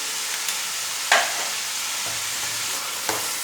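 Half a kilo of boneless chicken pieces fry in ghee with garlic ginger paste, a soft steady sizzle under a few light stirring scrapes and taps, close and fairly quiet, with no talking.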